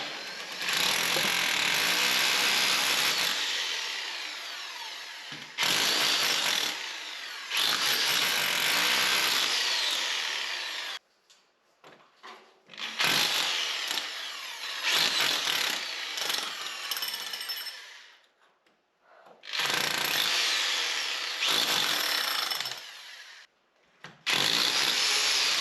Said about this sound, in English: The drilling was relentless,